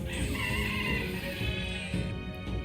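A large, angry chicken-like creature in the fantasy game Metaphor: ReFantazio lets out a loud, drawn-out crowing cry, harsh and continuous with rough squawking textures, close and dominating throughout.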